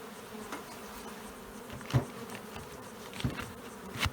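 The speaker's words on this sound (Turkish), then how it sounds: "Arıyı görüyorsunuz uçuşundan." Honeybees buzzing around hives in an apiary during chestnut honey season, a faint continuous hum with a few louder passes as single bees fly close.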